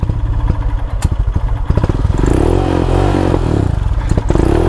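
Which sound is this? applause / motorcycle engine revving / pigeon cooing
motorcycle engine revving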